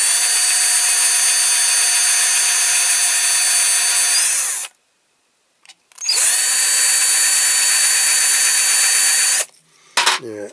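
A power drill flattens a rivet on a Corgi Toys Rover 2000 TC Golden Jacks toy car, with two loud sustained high-pitched whining bursts separated by a short silence and a brief final rev, close up.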